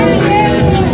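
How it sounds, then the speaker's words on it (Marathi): A dense crowd of Ganpati devotees shouts together on a street in a brief, loud burst of mingled voices. "भक्तांची गर्दी होत आहे"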